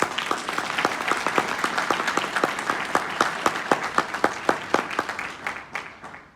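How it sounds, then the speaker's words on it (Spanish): Audience applause in a national congress session after a call to honor the country's heroes: a steady crowd clapping throughout, with sharper individual claps standing out near the end as it thins and fades. "Pido un aplauso para esos héroes de la patria"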